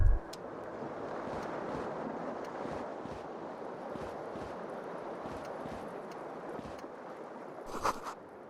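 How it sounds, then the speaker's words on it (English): Cold wind blowing through a broken window in the video game Disco Elysium, a steady faint hollow whoosh with soft rustling gusts throughout and a brief brighter flutter near the end. "Cold wind."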